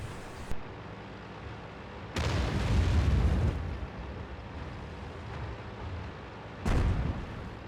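Tank guns firing in World of Tanks on the El Halluf map: three heavy booms, one brief, one longer rumbling blast and a final sharp report, spaced over several seconds with quieter battle ambience between them and no talk.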